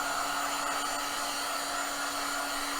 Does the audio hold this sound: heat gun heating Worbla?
yes